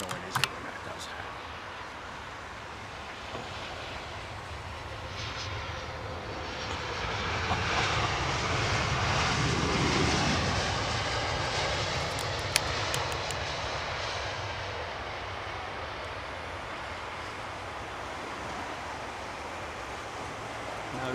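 A passenger airliner arrives on runway 27R at London Heathrow, its engine roar swelling broadly to a peak near the middle and fading again, heard from a distance over steady outdoor background noise.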